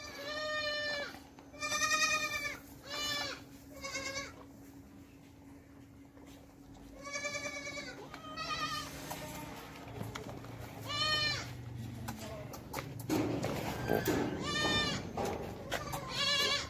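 Several dairy goats bleat in repeated, wavering calls, fairly close, with gaps between bursts and some rustling farmyard noise underneath, on a goat farm in Pakistan.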